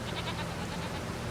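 Goats bleat in Farming Simulator 25, a dense, steady wash of animal calls and farm ambience, fairly loud throughout the short stretch.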